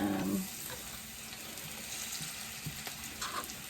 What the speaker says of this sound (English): add your potatoes to the grease. We're going to cook these 6 to 8 minutes until browned and cooked through